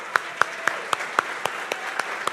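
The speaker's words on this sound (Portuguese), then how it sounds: "Vamos dar um aplauso para essa equipe aí" Sparse applause from a church congregation during a sermon, a few hands clapping in a steady, evenly spaced rhythm of sharp, moderately loud claps over a quiet room.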